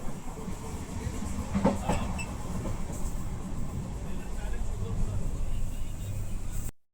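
Rupashi Bangla Express passenger train on the Dhaka to Benapole line, running on rails: a steady, loud, close rolling rumble heard from inside a coach throughout, with faint background voices.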